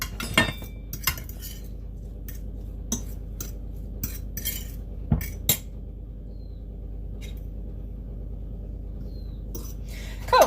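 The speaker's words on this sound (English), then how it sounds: "And then I'm going to mix those together." Utensils scrape and clink against a dish while chickpea tuna salad is stirred together, a series of soft, close taps and scrapes spread irregularly over a quiet background.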